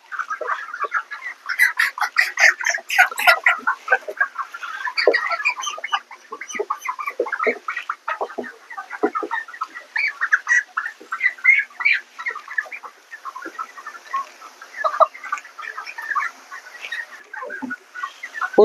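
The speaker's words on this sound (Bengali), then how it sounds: "মুরগির ওজন দেওয়ার কাজ চলছে।" Broiler chickens on a farm cluck and chatter steadily while being weighed, a dense overlapping flock sound close by with no talking.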